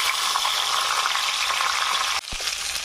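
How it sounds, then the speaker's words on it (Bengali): Catla fish head coated in salt and turmeric frying in oil in a kadai, a dense, continuous sizzle with a brief stirring clatter near the end. "নুন হলুদ মাখিয়ে রাখা কাতলা মাছের মাথা ভালোভাবে ভেজে নেব।"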